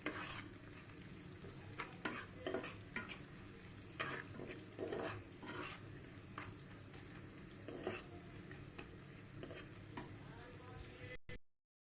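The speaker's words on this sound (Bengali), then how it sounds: "সুন্দর করে লবণটা দিয়ে আগে পেঁয়াজটাকে নরম করে নেব" Onions softening with salt in a pan for a chicken curry, frying with a constant close sizzle while a spoon stirs and scrapes in repeated strokes, ending abruptly.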